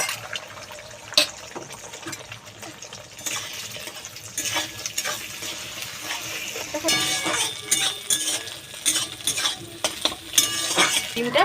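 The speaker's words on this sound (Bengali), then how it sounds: "এখানে ডিমটা আমি ঝুরু ঝুরু করে ভাজা করে নেব" Egg scrambled into small crumbly bits in a hot kadai with a little white oil, a busy stirring and scraping of a utensil against the pan over a light sizzle, steady and close with louder clatters toward the end.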